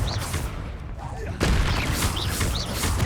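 The Confringo blasting spell in Hogwarts Legacy going off as a loud fiery burst and explosion partway through, amid continuous battle and magic effects.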